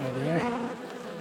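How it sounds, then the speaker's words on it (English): A bee buzzes close by at a beehive fitted with a hive gate on a warm day, giving one steady, droning whine whose pitch bends briefly. "Probably some angry bees."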